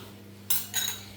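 A spoon stirs fish spice into a fish marinade in a bowl, making two brief, close metallic clinks and scrapes over a faint steady background hum.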